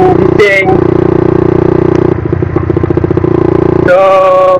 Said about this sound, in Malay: Lepas tu dengan enjin bising.